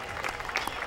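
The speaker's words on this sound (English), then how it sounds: "Ladies and gentlemen, a big round of applause for our Pennsylvania coach," At a Big 33 football broadcast event, a crowd claps for a Pennsylvania coach, a short burst of dense, mid-level applause lasting under a second.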